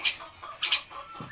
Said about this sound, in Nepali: कुखुरा